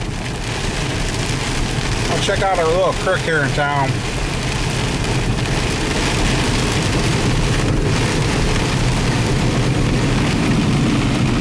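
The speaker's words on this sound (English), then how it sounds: "the rain be coming down" Dense, steady rain hisses and patters continuously, with someone speaking briefly over it early on.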